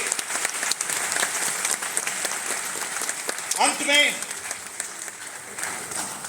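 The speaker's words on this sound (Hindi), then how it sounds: "जोर से ताली बजाइए।" Loud audience applause at an inauguration at a university farmers' fair, a dense continuous crowd clapping throughout, with a brief voice rising over it midway.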